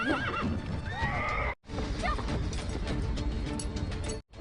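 A horse neighs loudly and shrilly in a video game battle scene, its whinny rising and falling over busy background noise and faint yapping, with brief drops to silence between cuts.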